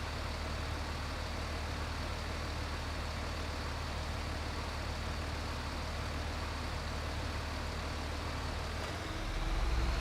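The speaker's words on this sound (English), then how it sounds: "While the truck warms up" A truck engine warms up in a GTA roleplay game, a steady low rumble holding through the whole stretch with no talk over it, then swelling slightly near the end.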